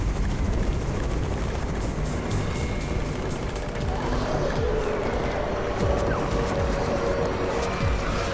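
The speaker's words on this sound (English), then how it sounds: "It's Raven's chopper" Helicopter in the zombie survival video game Undawn drones with a steady, dense rotor and engine roar that holds for several seconds without a break.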